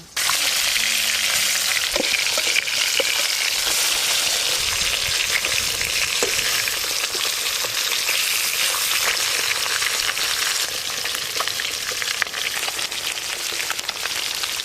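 Katla fish pieces fry in hot oil in a continuous dense, crackling sizzle, loud and close, with occasional small pops and no voices.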